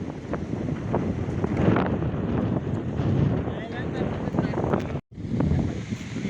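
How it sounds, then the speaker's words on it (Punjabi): Strong wind blowing at Birds Hill Provincial Park beach in Canada, loud gusty buffeting on the microphone throughout, with a brief cut near the end. "ਇੰਨੀ ਜ਼ਿਆਦਾ ਤੇਜ਼ ਹਵਾ ਚੱਲ ਰਹੀ ਹੈ"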